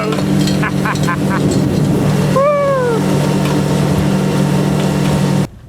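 A boat motor idles in shallow water with a steady low drone, joined briefly by a faint high tone midway before cutting off near the end.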